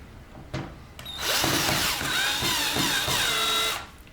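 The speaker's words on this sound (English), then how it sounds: "insert the screws using your power driver, lightly" A power driver runs screws into a door hinge: a short buzz, then one sustained whirring drive of about two and a half seconds, close and loud, with no talk.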